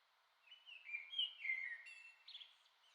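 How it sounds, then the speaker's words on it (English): Several birds chirp and whistle in bright, high trills, overlapping in a lively song that rises and falls at a moderate distance. "Listening to the birds in the background"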